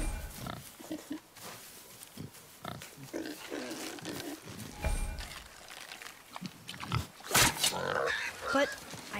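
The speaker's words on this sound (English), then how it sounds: "The wild boar's hide is thick." Wild boar in God of War, grunting and snorting in short bursts at close range amid game ambience and intermittent talk.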